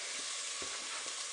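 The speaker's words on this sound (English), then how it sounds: "What I want to do is I want to render the bacon." Bacon renders in a hot pan for a pot of collard greens, giving a steady, dense sizzle with a few soft stirring bumps beneath it and no voices.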